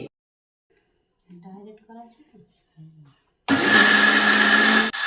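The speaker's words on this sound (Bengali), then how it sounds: "জারের হাফ মিক্সি ডাল নিয়ে বাটতে হবে" Soft speech comes first, then a mixer grinder suddenly starts grinding soaked lentils with a little water, roaring loudly and steadily for over a second before stopping abruptly.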